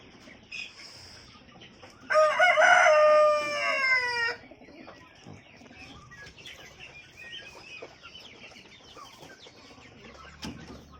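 A rooster in a backyard poultry yard crows loudly once for about two seconds, close by, against a quieter background of faint clucking and rustling from hens and their chicks.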